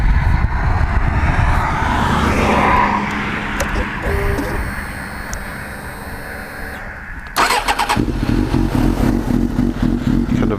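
A Suzuki GSX-R 750 K4 with Akrapovic and MIVV GP exhausts, loud throbbing engine running near, easing down in the middle, then surging back louder with a sharp rev toward the end.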